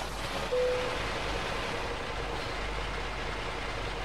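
A Renault Magnum truck engine in Euro Truck Simulator 2, modded, turns over and catches with a brief low bump before settling into a steady, rumbling drone that continues evenly to the end.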